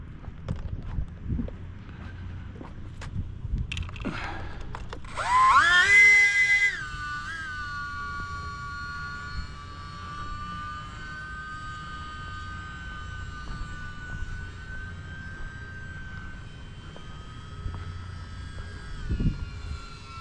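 A rebuilt UMX Pitts radio-controlled model plane flying, its small electric motor whining in a long sustained tone that rises sharply early, then holds steady and gradually sinks in pitch as the plane moves away.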